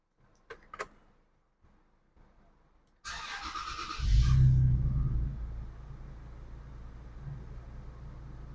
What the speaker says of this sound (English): let's go ahead, start the truck